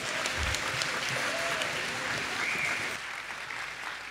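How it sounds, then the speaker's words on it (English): Applause from an elementary school Grandparents Day audience, continuous clapping that softens slightly near the end, with faint voices mixed in. "Let's give another round of applause"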